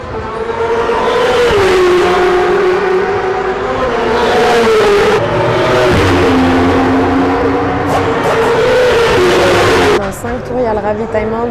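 Racing motorcycles at a 24-hour endurance race in Belgium roar loudly and continuously near the paddock, engine pitch rising and falling as machines pass, with a sharp shift near the end.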